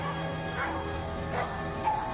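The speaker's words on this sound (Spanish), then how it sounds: "En la calle el perro de la familia ladraba y aullaba de una manera muy extraña." A family dog barks and howls oddly outdoors on a street, with a few short yips and whines spread across a steady background hum, moderately distant and not very loud.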